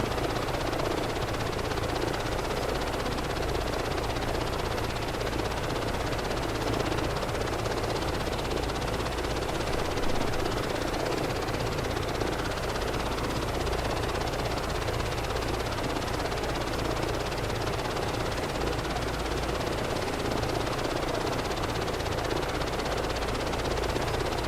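A PMDG 737-800 in a flight simulator rolls out after landing at Amsterdam Schiphol, its jet engines producing a steady, loud, broadband roar with a low rumble that holds unchanged throughout.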